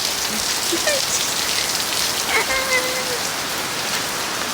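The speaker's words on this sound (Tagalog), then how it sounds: "basang basa dito sa amin yan umulan umaulan" Rain falls steadily on surfaces on an island after a volcanic eruption, a constant dense patter filling the whole clip, with a few faint voices and bird-like chirps in the background.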